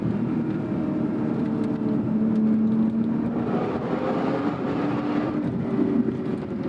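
A 2014 Lotus Evora S sports car pushed hard on a twisty, bumpy road gives a steady, loud engine and road roar throughout, with a rising tone under hard throttle and wind rush, and no talking.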